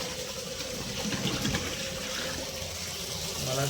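Water pours steadily from a pipe into a container, a continuous rushing, splashing hiss at close range that holds an even level throughout.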